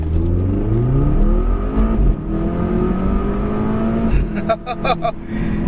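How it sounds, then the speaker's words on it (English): A 2017 Volvo V60 Polestar with 367 horsepower, in sport mode with launch control, revs hard and accelerates away with a loud, rising exhaust roar. Gear changes produce sharp crackles and pops near the end, and a voice speaks over it. "that exhaust note in sport mode, left foot braking, ESP turned off, floor to throttle, and this Volvo V60 Polestar has launch mode"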